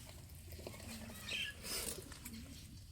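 Racing pigeons make soft, faint cooing and a brief flutter of wings, quiet and somewhat distant in a low ambient background.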